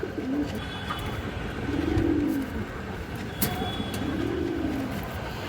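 Pigeons, including a large fawn hen, coo in slow repeated low rolls, about three clear calls in all, over faint background noise.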